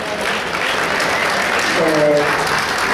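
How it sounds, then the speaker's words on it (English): Full audience applause for a jazz big band at a seniors' residence event, steady and fairly close, with a brief voice or tone rising through the middle. "Ladies and gentlemen, a round of applause for the Great Jazz Big Band."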